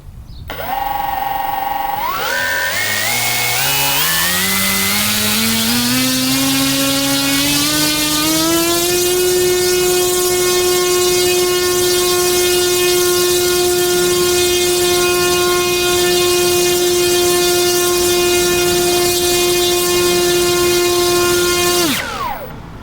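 Electric motor and propeller on a Robbe Air Trainer 140 RC plane running on a 4S battery, whining up steadily in pitch as the throttle rises, then holding a loud, even tone for about twelve seconds before cutting off abruptly.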